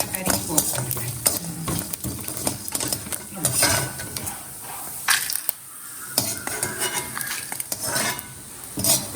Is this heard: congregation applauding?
no